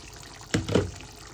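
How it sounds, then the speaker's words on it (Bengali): Mutton kosha cooking in a pot, releasing its own juices, is stirred in two quick, close, wet scrapes in otherwise quiet surroundings. "আমি একটু পরপর এটাকে নেড়ে দিচ্ছি"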